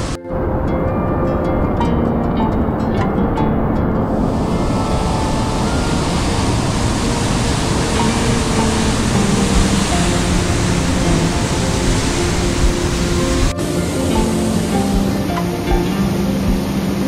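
Kalu waterfall at Malshej Ghat roars as a dense, steady rush of falling water, loud and unbroken throughout with no voices.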